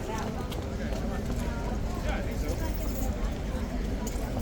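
A horse's hooves clip-clop steadily on hard ground among tourists, with crowd chatter and babble running throughout.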